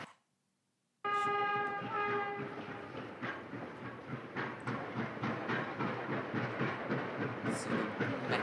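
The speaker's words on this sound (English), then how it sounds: "Some of those SY class locomotives." An SY class steam locomotive sounds a sustained whistle after a sudden start, then settles into a loud, steady rhythmic chuffing and rumbling that continues throughout.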